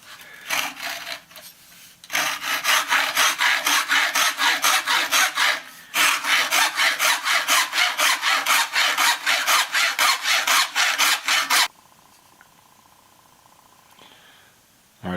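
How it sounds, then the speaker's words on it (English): Hacksaw cutting through a bicycle rim near a nipple hole: close, loud, rhythmic back-and-forth rasping strokes in two long runs separated by a short pause, then stopping abruptly. "So we're going to just take a hacksaw and cut through it just on the edge of one of those nipple holes."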